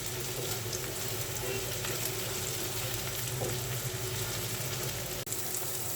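Onion and garlic fry in a pan with a steady, close hiss and sizzle throughout, broken now and then by faint crackles and stirring sounds, with no speech.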